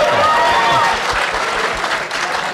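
Audience at a radio station's $15 minimum wage debate applauding and cheering, a loud, dense wash of clapping that holds steady throughout, with crowd voices mixed in.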